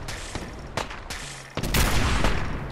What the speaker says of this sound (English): And as soon as he starts shooting his crap, this is really dangerous.